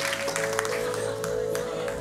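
A church congregation applauds, a steady wash of many hands clapping at moderate volume that carries on through the whole moment over a faint hum.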